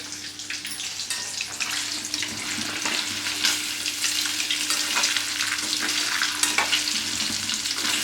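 Sardine fish sizzle and crackle as they fry in hot oil in a home kitchen, a loud continuous spitting hiss with frequent sharp pops and a low steady hum underneath, no voices.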